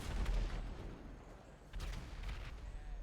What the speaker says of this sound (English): They're shooting up the hill.